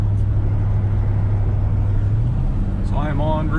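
Steady low engine drone and road rumble from inside a moving truck cruising on a highway, constant and close, with a brief higher whine near the end.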